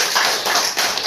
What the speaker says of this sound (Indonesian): Ya, bagus sekali, tepuk tangannya.